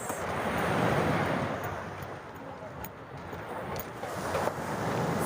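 Ocean surf at Mistral Beach in Marbella, a broad steady wash of waves with wind rushing across the microphone, swelling and easing slightly throughout.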